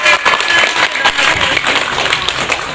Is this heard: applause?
yes